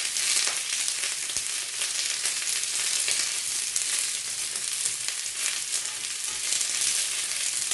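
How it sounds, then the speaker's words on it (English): Steady, loud sizzling of seekh kabab ingredients gently frying in oil, a dense continuous crackle that holds throughout with no talking. "then we're just going to fry them. Just gently fry."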